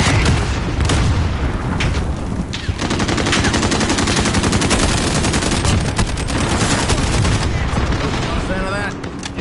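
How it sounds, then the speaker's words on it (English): Enemy mortar fire in a PS4 shooter: continuous heavy gunfire and rapid crackling bursts with booming impacts, loud and close, and a voice shouting over the barrage. "Enemy mortars, move!"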